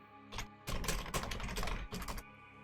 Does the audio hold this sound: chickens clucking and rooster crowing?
no